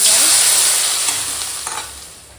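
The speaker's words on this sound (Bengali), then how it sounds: "এখন মশলাটা কোনো একটু কষিয়ে এখন মশলা কষানো হয়ে গেছে" Ginger and cumin paste fries in a pan with a loud, steady sizzle, while a few scraping stirs cut through as the hiss slowly eases off.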